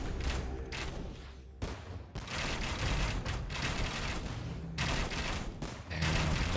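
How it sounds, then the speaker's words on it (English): Bursts of booming bombard cannon fire and crackling impacts against towers in a video game overlap in a dense, chaotic barrage, with several heavy blasts scattered throughout. "Bombard Cannon will take out 1 more tower."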